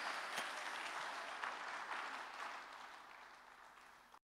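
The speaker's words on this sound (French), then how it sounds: "Nous allons encore une fois acclamer pour le roi des rois pour ce beau message." Congregation applauding at a church service after a sermon, a dense sustained wash of clapping that gradually fades before cutting off.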